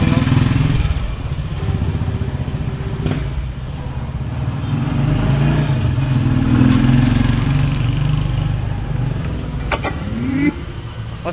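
A motorcycle engine while riding, a steady mid-pitched hum with shifting revs that rises and falls under ongoing conversation between riders.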